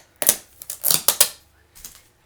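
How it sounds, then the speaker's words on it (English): Packing tape ripped off an Xbox One Day One Edition box in several sharp tearing bursts, close and loud, with a short pause before a final quieter pull. "Pull off the tape."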